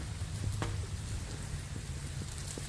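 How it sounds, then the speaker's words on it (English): Steady rain falls on a picnic area in the Everglades, a dense continuous patter with occasional louder drips striking the canopy nearby, no voices. "I'm going to see if the rain lets up a little bit"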